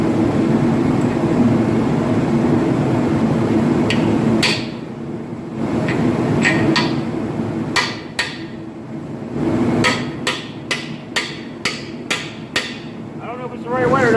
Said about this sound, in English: Little 3-pound mini sled.